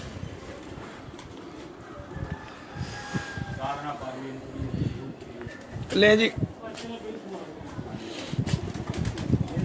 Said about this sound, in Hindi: ये भी कबूतर है।